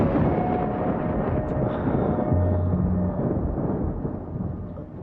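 Rain and rolling thunder in a Kannada movie scene form a steady, deep rumble with no speech over it, fading slightly toward the end.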